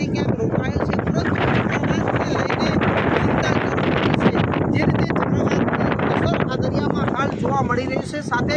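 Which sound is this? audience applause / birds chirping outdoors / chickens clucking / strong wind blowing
strong wind blowing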